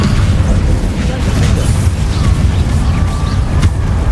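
Magic spell impacts in a Harry Potter video game: loud, continuous rumbling booms and bursts that blend into a dense low roar, with voices calling out over the din.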